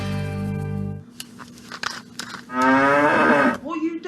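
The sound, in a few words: cow mooing in a radio advert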